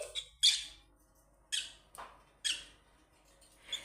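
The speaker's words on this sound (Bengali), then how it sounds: "টুনি টুনি খাঁচের ভিতরে তোমার ভালো লাগে না সোনা পাখি" A caged pet bird gives about five short, sharp squawking calls spaced irregularly, near and clear against a quiet background.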